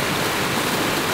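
Water pouring down a small waterfall in a shallow, polluted urban canal, a steady broadband rush that stays loud and even throughout, with no voices.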